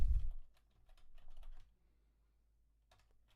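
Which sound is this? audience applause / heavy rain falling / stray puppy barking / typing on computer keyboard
typing on computer keyboard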